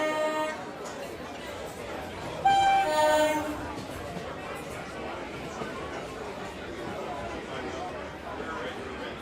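A running train, used as a sound effect in a Bengali horror audio story, rumbles steadily throughout. A horn blast sounds near the middle, and faint chatter sits in the background.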